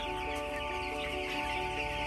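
Steady clucking of 13-day-old broiler chickens inside a heated poultry shed, with a constant hum of fans or machinery running underneath.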